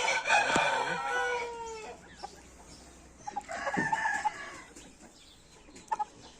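Fighting roosters kept by breeders from Nakhchivan, Azerbaijan give a loud, close crow at the start, followed by scattered clucks and softer calls.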